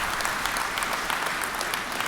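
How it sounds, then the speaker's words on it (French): Audience applause at a French departmental council and federation gathering, a dense, steady wash of many hands clapping at a constant level through the whole stretch. "Je pense qu'on peut l'applaudir."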